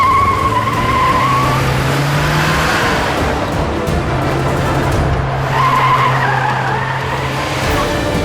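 A car is driven recklessly and its tires skid with a loud squeal. The squeal comes in two long bursts under a steady engine roar, close to the listener.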